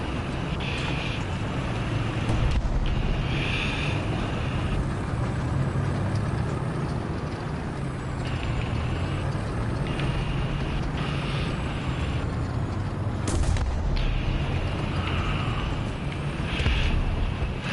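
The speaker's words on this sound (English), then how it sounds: "I can hear their engines" Enemy tank engines in War Thunder rumble as a steady low drone with wind-like noise, continuous and fairly distant throughout, with no talk.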